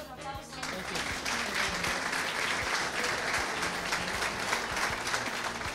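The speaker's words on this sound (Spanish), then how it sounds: "Por favor, aplausos." Sustained applause from a crowd at a car show award ceremony, where a painter is honored with a car prize, steady dense clapping running the whole time with faint voices mixed in.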